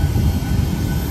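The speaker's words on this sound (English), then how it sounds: "Here's our plane, Ryanair, going over to Glasgow." A Ryanair airliner passes overhead, a steady loud low-frequency engine roar that fills the whole moment without pause, with no voices over it.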